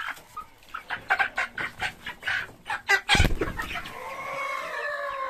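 Hens and roosters at a poultry coop cluck in a rapid rhythmic run of calls, then one loud sudden squawk, followed by softer, drawn-out clucking nearby.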